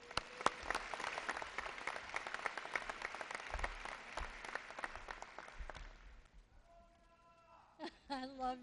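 Graduation crowd at Oswego High School applauds the Board of Education vice president, a steady patter of clapping for about six seconds that dies away, followed by a speaker's voice at a microphone.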